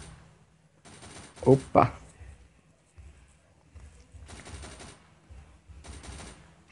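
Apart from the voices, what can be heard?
gunfire from the video game Unkilled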